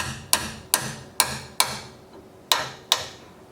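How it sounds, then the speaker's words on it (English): A hammer taps a wrench to loosen a pedal on a Peloton exercise bike: six crisp metallic strikes at a steady, unhurried rhythm, close and loud, with short ringing decay and no talk. "you can kind of just give the wrench a little tap with a hammer"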